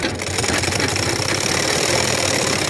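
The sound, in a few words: sewing machine running and skipping stitches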